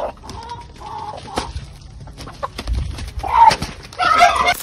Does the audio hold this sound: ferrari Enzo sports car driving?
no